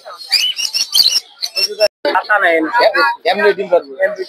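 Birds chirping at a busy rural bird market in Madhabdi, Narsinghdi, where pigeons and chickens are also sold; bright, quick tweets and calls sound close by under steady talking.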